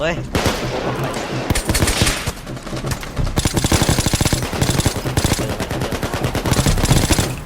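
Rapid machine-gun fire and gunshots in the heist video game Payday 2, dense bursts of shots crackling loudly for several seconds with game noise behind.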